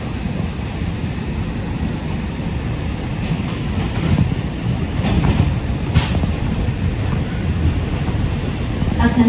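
An NYC subway R142 train on the 2 line, Bronx Express, runs along the rails with a loud, continuous rushing rumble and rattle, a few faint clacks and a sharp click rising through the steady roar.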